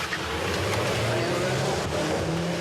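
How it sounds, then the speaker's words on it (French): A black Saab speeds through a working-class Lille neighbourhood during a police chase, its engine roaring steadily and loudly with a broad rushing road noise throughout. "Une course-poursuite à plus de 100 km/h, l'après-midi, en plein cœur de ce quartier populaire de Lille."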